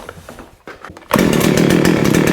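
A Baumr-Ag GCS6200 chainsaw with a new pull start and adjusted idle fires up after a few quiet pulls and clicks, then runs loud and close at a rough, buzzing idle.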